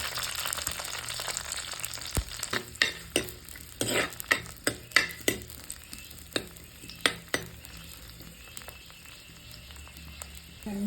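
Chopped onion, ginger and green chili fry in oil for a stingray fish curry, a quiet sizzle punctuated by a rapid run of sharp spoon taps and scrapes against the pan.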